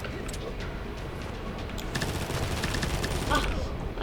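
Rapid gunfire from a shooting video game rattles in continuous bursts, growing louder and denser midway, with a louder blast near the end, under excited players' chatter.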